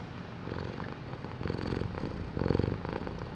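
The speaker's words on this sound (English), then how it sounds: "He's purring." A cat purrs up close in a steady, soft rumbling rhythm, swelling slightly with each breath and heard alone without any talking.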